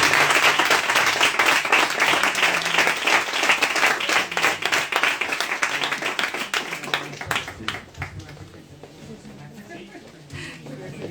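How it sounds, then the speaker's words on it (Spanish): Audience applause closes a book event for author Jorge Carrión, loud and dense at first, then thinning into scattered claps and fading, with a voice or two underneath. "vamos a despedir ya el acto aplaudiéndolo como se merece"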